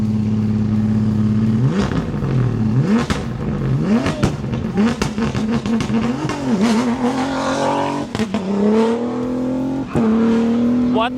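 Ford M-Sport rally car launching from a stage start at the South African Safari Rally, engine revving hard through rising gear changes, loud and close, with crowd voices beneath.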